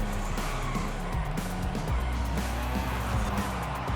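A 1986 BMW M635CSI driven in Forza Horizon 5, its engine droning steadily at low speed with shifting pitch and a few gear-change steps, continuous and fairly loud throughout with no voice over it.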